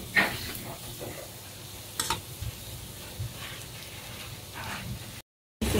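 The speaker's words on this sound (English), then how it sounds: "Onion, ginger, garlic. Mix. Fry it until cook." Onion, ginger and garlic sizzle in hot oil in a pan for a chicken curry, a steady soft frying hiss broken by a few scraping stirs, close and fairly quiet.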